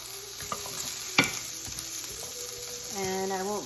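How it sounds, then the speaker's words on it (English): Mushrooms, onion and garlic are stir-fried in a pan, giving a soft steady sizzle broken by a sharp clack of a utensil and some scraping, close by and with no voices. "I won't bore you with watching me stir fry vegetables"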